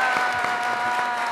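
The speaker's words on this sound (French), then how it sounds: "demander au public de saluer Brice Arnaud avec des applaudissements." Continuous applause from a studio audience on a French television game show, steady and full throughout with no talk over it.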